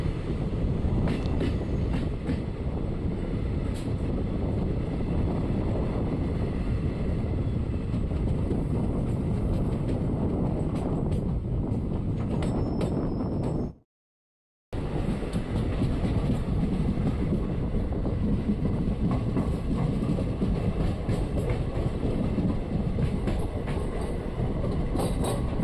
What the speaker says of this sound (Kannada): ನಮ್ಮ ಟ್ರೈನ್ ಈಗ ಕಡಪ ರೈಲ್ವೆ ಸ್ಟೇಷನ್ಗೆ ಬಂದಿದೆ.